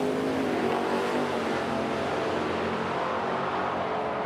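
Mopar drag race cars, including a white Dodge Challenger, roar at a drag strip in Edmonton, a continuous distant engine rumble that fades slowly rather than a sharp close launch.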